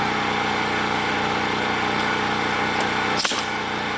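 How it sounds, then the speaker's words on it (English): A generator and an air compressor run together with a constant droning hum and a strong steady tone, loud and unbroken, with a brief clatter near the end. "got my air compressor on"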